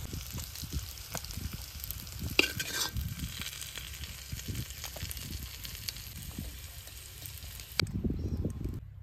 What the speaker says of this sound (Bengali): লবণ, হলুদ, এবার ভালো করে ভেজে নেব